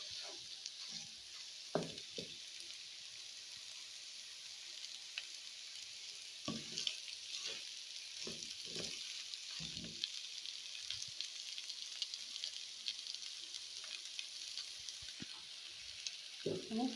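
Potato samosa filling being stirred and fried in a pan: a steady sizzle runs throughout, with intermittent scraping and stirring knocks at close range and no talk.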